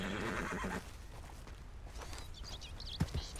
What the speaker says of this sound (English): I got me a horse.